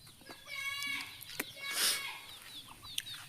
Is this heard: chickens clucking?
yes